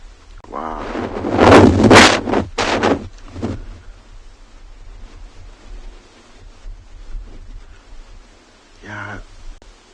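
Strong wind gusts buffet the microphone on a sunrise safari, roaring loudest early and then easing to a steady rushing bed. A brief voice-like sound comes near the end.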